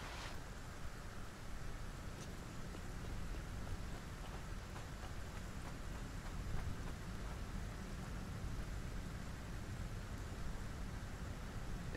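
Steady rain in the video game Satisfactory, a continuous even hiss of falling drops with a low rumbling undertone, unbroken and without voices throughout.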